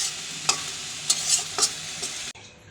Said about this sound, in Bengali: পুঁই শাকটাই চিংড়ি মাছ দিয়ে দেখাইলাম